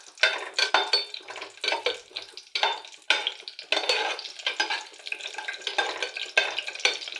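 Garlic being stirred into khichdi frying in a pot, a rhythmic series of scraping, rustling spoon strokes over a light sizzle, close and fairly loud.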